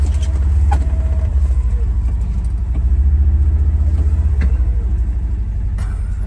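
A tractor engine runs steadily and loud, close by, on a rural off-grid property near a creek, with a low, even rumble holding for several seconds and a few faint knocks over it.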